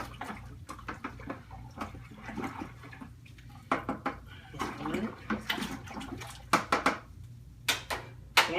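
Sugar is stirred into water in a fermenter for a corn mash, giving quiet sloshing and swishing in uneven strokes with occasional sharp splashes and knocks.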